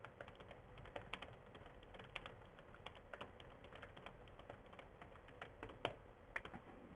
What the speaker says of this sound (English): so I'm going to type it in now